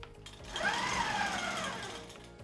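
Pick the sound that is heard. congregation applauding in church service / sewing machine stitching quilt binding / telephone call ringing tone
sewing machine stitching quilt binding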